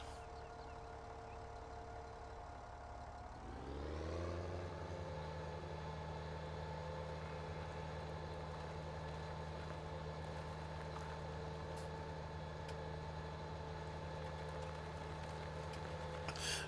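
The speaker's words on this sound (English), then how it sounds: "Got the biggest tractor here doing all the little mundane work." A big tractor engine in Farming Simulator 17 hums quietly at first, then revs up around four seconds in and settles into a steady, loud, even drone that holds to the end with no voices.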